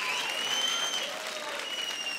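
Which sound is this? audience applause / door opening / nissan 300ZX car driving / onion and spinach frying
audience applause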